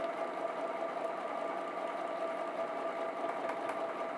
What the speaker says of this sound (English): It's just very careful stitching.